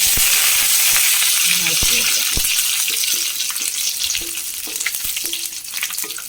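Mustard seeds and two dried red chillies crackle and sizzle loudly in hot oil for a bitter gourd theeyal, with sharp popping bursts over a steady frying hiss.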